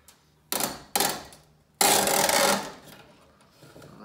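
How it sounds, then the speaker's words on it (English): Excess material torn along a seam while building a wooden bee hive: three separate bursts of ripping, two short ones followed by a longer, louder tear that fades out, all close by with no talking. "sometimes you can tear this on along a seam"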